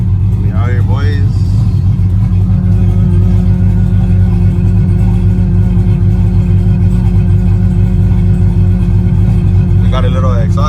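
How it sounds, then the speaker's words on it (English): A truck engine with a small exhaust leak idles and rumbles steadily at close range at a crowded truck show, a low continuous drone with faint voices audible at moments. "We got a little exhaust leak."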